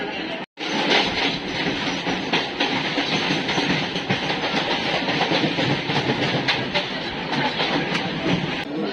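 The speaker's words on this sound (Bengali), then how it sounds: "আমাদের ট্রেন ঘুরে স্টেশন ক্রস করলো" A train rumbles steadily past a station with continuous rattling and clatter of cars, loud and close, with a brief cut near the start.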